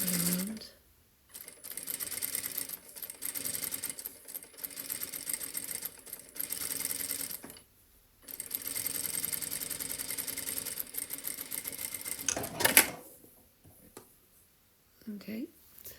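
Sewing machine running in long steady bursts as it stitches a trouser seam along a stitch guide, with short pauses between runs and a brief clatter near the end.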